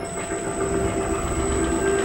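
A Joysun vacuum pump for maple syrup production starts up with a steady, rough mechanical drone and a constant whine, running loud and continuous throughout with no talking.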